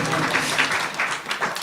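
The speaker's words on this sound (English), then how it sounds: "Big round of applause for all of us." Brief applause from a temple program audience, a dense patter of clapping at moderate volume with slight swells, short and without talk over it.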